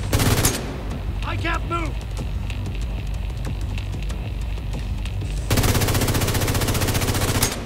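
Automatic weapon fire in The Division 2 rattles in rapid, loud bursts at the start and again in a sustained stretch near the end, with someone talking briefly over the gameplay noise between them.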